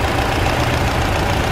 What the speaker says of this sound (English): You got your little 4-cylinder engine.